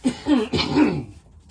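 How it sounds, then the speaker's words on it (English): A single harsh cough close to the listener, breaking into a few rough bursts before trailing off. "apologies for the cough"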